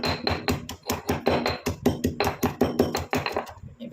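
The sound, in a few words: pounding ingredients to extract juice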